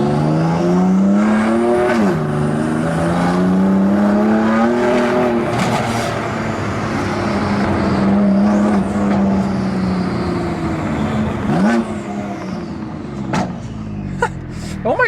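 A rebuilt BMW M2 Competition, lowered, with its exhaust roaring loudly through sustained revs and rising, falling engine pitch, close and continuous, with a short tire chirp near the end.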